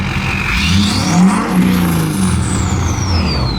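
A Ford 6.7L Powerstroke diesel fitted with a huge turbo revs loud and close, engine rising and falling while the turbo whistles and spools with a long sweeping whine.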